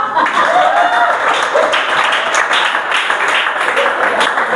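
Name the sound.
audience applause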